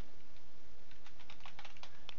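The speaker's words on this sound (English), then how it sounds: "let's type" Quick, light key taps on a laptop or desktop keyboard, a short burst of clicks close by and fairly faint, with no talking.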